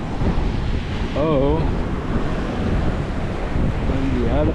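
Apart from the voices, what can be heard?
ocean waves on the shore with wind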